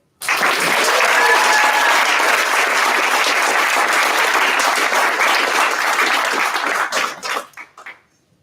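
Sustained audience applause fills a 2022 awards ceremony hall, starting abruptly, holding steady and loud for about seven seconds, then thinning out into scattered claps before stopping.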